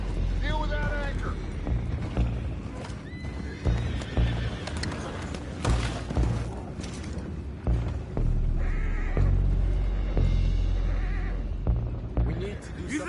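Horses whinny repeatedly over clip-clopping hooves and mechanical clatter in the game Red Dead Redemption 2, with voices talking now and then throughout.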